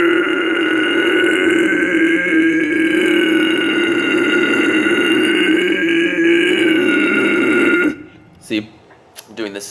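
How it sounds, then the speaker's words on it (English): A male extreme metal vocalist holds a sustained guttural growl with a flanging, resonant throat tone for about eight seconds, loud and steady, then breaks off into a few short throaty bursts. "So it creates sort of like a flanging effect, and that's what gives it that resonance that you're wanting to sound like."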